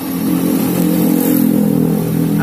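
A Yamaha Vega R motorcycle engine, freshly fitted with a new piston, runs close by with a steady throbbing idle and slight revving that holds loud and even throughout.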